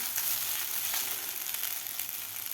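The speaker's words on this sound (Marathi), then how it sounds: "मीडियम गॅसवर आपल्याला 2 ते 3 मिनिट व्यवस्थित फ्राय करायचा आहे साबुदाणा." Sago pearls fry in ghee over medium heat for a sweet sabudana khichdi, giving a steady, even sizzle throughout that stays close and fairly quiet, with faint crackles and no voices.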